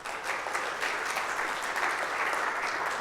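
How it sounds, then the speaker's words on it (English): An audience claps loudly and steadily for a speaker arriving on stage at a conference, a dense, continuous wash of applause with no talk over it. "please can we have a huge round of applause for Santosh?"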